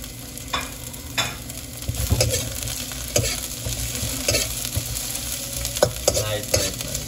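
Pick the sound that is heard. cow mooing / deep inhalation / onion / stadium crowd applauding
onion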